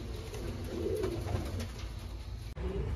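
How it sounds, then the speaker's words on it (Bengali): Giribaz pigeons coo softly from close by as they feed with other pigeons, low, repeated throaty calls over a steady outdoor background, ending with a brief knock. "পায়রাটা নেমেছে অন্য পায়রাদের সাথে খেতে।"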